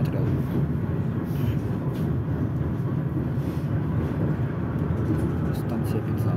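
Tram No. 1210 on route 6 rumbles steadily and fairly loudly throughout, a continuous low rolling drone from the wheels and motor with constant interior noise and no clear break.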